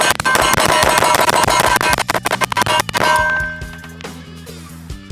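Rapid pistol shots from a Phoenix Trinity Lo Pro, a dense string of loud sharp cracks in quick succession for about three seconds, then a few isolated shots and metallic clinks as the firing tapers off.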